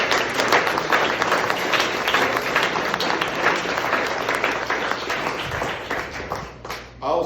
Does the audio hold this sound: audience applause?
yes